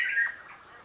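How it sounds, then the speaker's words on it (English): A kagu, New Caledonia's ground-dwelling bird, gives one short, harsh, nasal squawk. The call is close and clear, with a faint whistling trail after it and no other sounds. "this is its special bird, the kagu"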